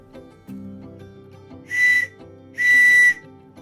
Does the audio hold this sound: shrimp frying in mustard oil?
no